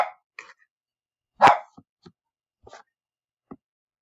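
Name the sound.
dog barking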